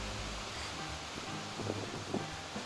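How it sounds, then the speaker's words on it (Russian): Steady wind at a holiday resort in Lemvig, Denmark, a soft, constant broadband rush buffeting the microphone with slight gusts, faint and alone. "Дания – это постоянный ветер"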